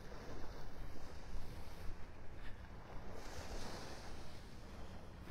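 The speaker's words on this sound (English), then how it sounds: "you can sit there and just enjoy the sounds of the beach" Ocean waves washing onto the beach at Delnor-Wiggins in North Naples, Florida, a steady wide surf roar mixed with wind buffeting the microphone.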